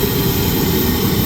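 A steady, loud roar of a jet airplane engine at an airport, constant and broadband with no breaks, heard close up without talk.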